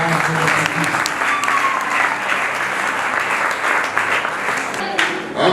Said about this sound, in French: Nous acclamons pour la gloire.